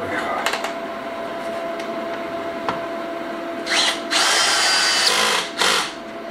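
A power drill tightens fittings on a new off-grid solar charge controller, giving a few short loud whirring bursts at close range, separated by quieter handling clicks and taps.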